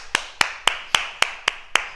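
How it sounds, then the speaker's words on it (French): Single person clapping in a martial movement exercise, seven sharp, evenly spaced claps about a quarter second apart, close and clear with nothing else around them. "On s'applaudit"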